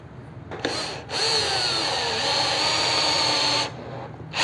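A Bosch GSR 1080 Li cordless drill drives a screw into a doubled pine board, whirring in a steady close whine for about two and a half seconds after a brief start, then stopping.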